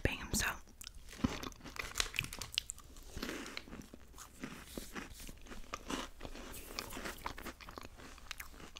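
Close, crisp crunching and chewing of a Peruvian chocolate-coated waffle snack, with repeated bites and steady mastication throughout, heard up close in a quiet room.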